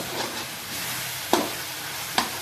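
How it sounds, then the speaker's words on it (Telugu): Garam masala powder and bay leaf fry in a pan for an eggplant curry, giving a steady soft sizzle, with two sharp scrapes of a spoon stirring against the pan. "ఇది బాగా ఫ్రై అయిపోయింది"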